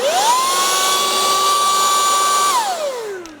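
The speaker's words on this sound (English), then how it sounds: "This blower, XGT, is quiet." A Makita XGT cordless leaf blower spins up to a high, steady whine with a strong tonal pitch and airy hiss, holds for a couple of seconds, then winds down as the motor is released.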